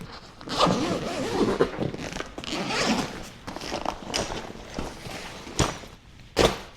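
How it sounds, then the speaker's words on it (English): Zippers on a Nomatic 20L travel backpack pulled open in several quick, close rasping runs, with bag handling and soft thuds between them. "From here, you also have zippers at this point that you can open up, and the whole thing will fold open"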